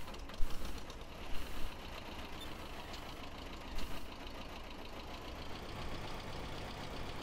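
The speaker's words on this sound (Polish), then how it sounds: "odpalamy traktor" A tractor engine in a farming video game starts with a few knocking bursts, then settles into a steady, fairly quiet mid-pitched idle rumble with no voices over it.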